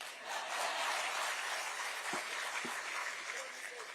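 Audience applause at a key handover ceremony for redeveloped BDD chawl homes in Naigaon, Mumbai, broad sustained clapping filling the room and slowly tapering, with a faint voice near the end.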